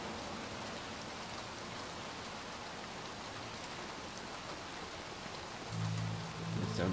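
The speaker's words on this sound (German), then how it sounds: "Ich muss ja auch noch hier durch den Regen rennen" Steady rain pours down in the video game Little Nightmares II, a constant hiss of drops on surfaces, with a low rumbling tone rising near the end.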